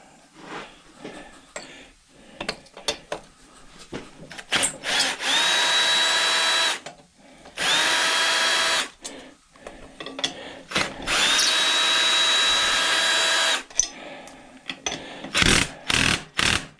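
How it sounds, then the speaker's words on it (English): Power drill running at full speed, used while scrapping a push mower for aluminum, whirring loudly in three long sustained bursts with a steady tone, separated by short pauses and clattering handling noises. "I'm going to flip the drill to 1 for power."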